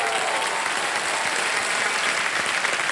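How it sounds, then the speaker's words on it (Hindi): Studio audience applause on a Hindi TV quiz show, KBC season 15, a dense, steady burst of clapping from a full crowd lasting the whole moment, loud and sustained with no talk over it. "तालियां बज जाए इनके लिए."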